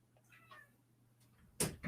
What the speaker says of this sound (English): My cat is at the door.